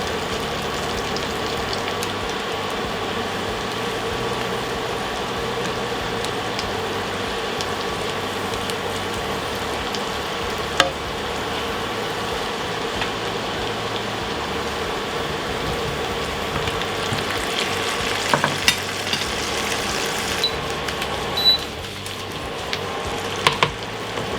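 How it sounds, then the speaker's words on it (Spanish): Garlic cloves frying over low heat in melted butter and oil in a pan, a loud, steady, close sizzle with a few sharp clicks and stirring sounds near the end. "Al derretirse, agregamos los dientes de ajo y cocinamos a fuego bajo 1 o 2 minutos."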